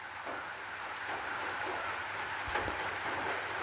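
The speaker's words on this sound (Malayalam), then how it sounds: "ചാറി തുടങ്ങിയതേ ഉള്ളൂ" Light rain just beginning to drizzle, a soft steady hiss of drops with a few faint taps on a surface, quiet and unbroken throughout.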